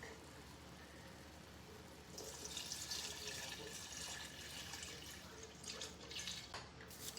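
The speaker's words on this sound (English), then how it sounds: "Now, it's time for our beautiful lobster stock." Lobster stock poured into a cooking pot for lobster bisque, a steady liquid splash and trickle that swells after a couple of seconds and continues for several more, with no talk.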